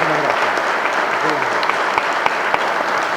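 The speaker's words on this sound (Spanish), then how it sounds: "lo felicitamos con un gran aplauso" An audience at an academic talk on Argentine labour relations gives loud, sustained applause, a dense crackle of many hands with a few sharper claps standing out near the front.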